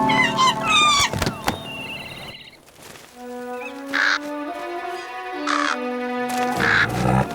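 A cartoon crow in an animated Jungle Book story gives loud, harsh caws in three distinct bursts, separated by tonal music and brief thumps.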